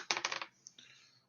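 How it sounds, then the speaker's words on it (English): Dice clatter across a table during a Magic: The Gathering Commander game: a quick burst of close, sharp rattling clicks, then one or two lighter taps as they settle. "Grab a dice and roll for turn."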